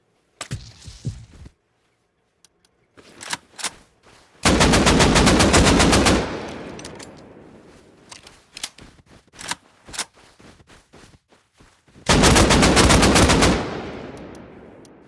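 AK rifle fire in the survival game Rust: scattered single shots open the clip, then two long, loud, close bursts of rapid automatic fire, with quieter shots and a trailing echo between them.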